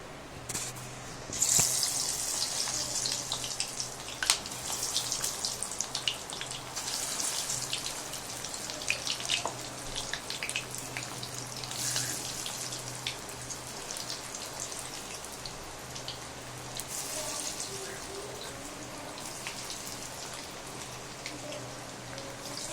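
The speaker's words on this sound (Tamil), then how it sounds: "இப்போ கடாயில் எண்ணெய் காஞ்சதுக்கப்புறம் சிக்கன் எடுத்து போட்டு பொரிக்க போகிறோம்." Chicken 65 pieces frying in hot oil in a kadai, giving a steady, dense crackling sizzle that runs evenly throughout with a brief louder spatter near the start and no talking.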